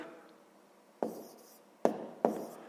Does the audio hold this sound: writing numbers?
yes